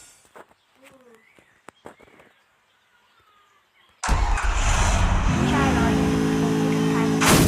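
A car engine cranks and catches abruptly after a quiet stretch of faint birdsong and light footsteps, then runs loud and steady close by as the car pulls away, its hum rising through the final seconds.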